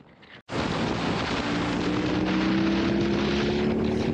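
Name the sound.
BMW R18 motorcycle accelerating in Rock mode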